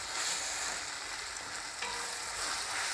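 Food fries in a pan while being stirred, a soft, even sizzle with a few faint scraping touches of the spoon, quiet and close, no talking.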